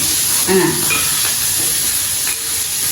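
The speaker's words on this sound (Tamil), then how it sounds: "ஆனால் அந்த இஞ்சியும் உள்ளியும் வதங்கி கொண்டு வரையில கொஞ்சம் வாசம் தெரியுமா" Ginger and garlic sauté in a pan with a steady, loud sizzle and hiss, while a few brief stirring scrapes sound close by.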